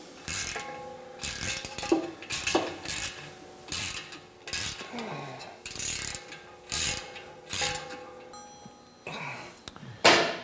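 Ratcheting and clicking as a bracket is screwed onto a lower motor mount, in repeated short bursts of tool turns with brief pauses, close by.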